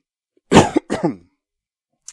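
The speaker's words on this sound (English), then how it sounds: "Sorry, had to cough. I'll probably edit out that cough." A couple of short, harsh coughs or throat clears close to the mic, followed by silence and a tiny faint click.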